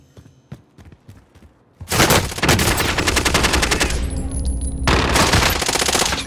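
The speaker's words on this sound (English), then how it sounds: "I'm under fire." Sustained automatic gunfire in Call of Duty: Modern Warfare, loud and close, rattling almost continuously for several seconds after a few quieter isolated thumps and clicks at the start.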